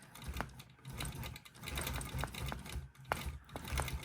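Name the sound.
Gammill longarm quilting machine stitching around applique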